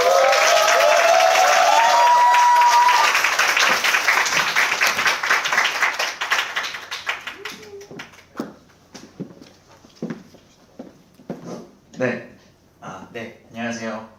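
Applause from a seated audience welcoming a speaker to the stage at a talk, loud and sustained at first, then thinning into scattered individual claps before fading.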